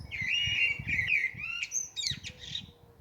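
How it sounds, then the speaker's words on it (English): A blackbird sings from a tree in a series of clear, fluting, warbled phrases, close and prominent over a low background rumble, with no talking. "But there's very definitely a blackbird in the tree."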